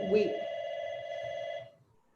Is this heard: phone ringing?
yes